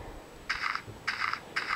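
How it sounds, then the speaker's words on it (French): Three short, light chiming pops from picking up a tree sapling in Minecraft Pocket Edition, evenly spaced and soft, with no talking. "je viens de prendre une pousse d'arbre"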